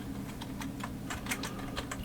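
Typing on a computer keyboard, a quick run of about a dozen light clicking keystrokes at an uneven pace, heard fairly close over quiet room noise, with no one speaking.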